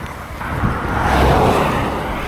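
Steady roaring wind buffets the microphone on a bike ride along a busy highway in freezing drizzle, with car traffic rushing past underneath the continuous gusty noise.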